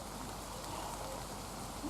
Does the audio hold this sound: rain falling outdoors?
yes